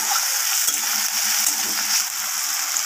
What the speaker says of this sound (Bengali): টমেটোটা দিয়ে ভালোভাবে একটু আমি নাড়াচাড়া করে ভেজে নেব, টমেটোটা যতক্ষণ না নরম হয়ে আসছে।